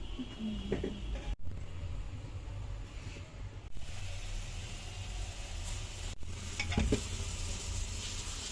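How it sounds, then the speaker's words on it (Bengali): Fish frying until crisp in a pan of oil, a steady sizzle with stirring and clatter throughout, recorded close with no talking. "এই তো মাছগুলোকে তুলে নিচ্ছি, একদম কড়া কড়া করে ভাজছি।"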